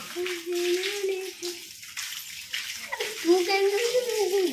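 Water runs steadily from a household tap, a continuous splashing rush with people, including a child, talking over it.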